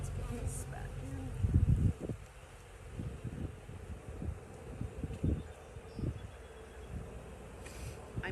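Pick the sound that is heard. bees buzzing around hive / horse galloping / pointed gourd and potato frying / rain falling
bees buzzing around hive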